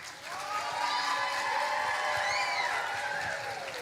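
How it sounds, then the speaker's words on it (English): Applause and cheering from a vacation Bible school audience after a David and Goliath Bible telling, a steady wash of clapping with whistle-like voices rising over it, loud and sustained across the whole stretch. "Let's give a huge round of applause, guys."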